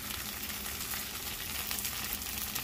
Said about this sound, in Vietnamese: Mình sẽ chiên khi làm bột nó cứng, nó giòn lên thì mình sẽ lấy ra.